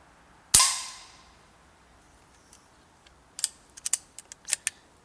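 Beeman 2027 carbine air rifle fitted with a suppressor moderator fires one sharp shot with a short decaying tail, followed a few seconds later by a cluster of quick metallic clicks and ticks.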